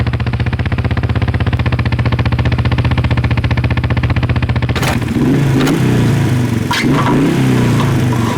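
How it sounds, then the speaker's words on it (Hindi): A faulty motorbike engine runs with a steady, loud, rapid mechanical pulsing, then shifts into rougher, uneven revving with clattering bursts in the second half. "बाइक खराब है"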